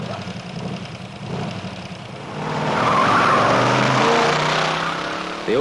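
Hot rod cars at a drag race skid and roar, with a loud rush of engine and tire noise swelling midway and holding steady, a faint voice underneath.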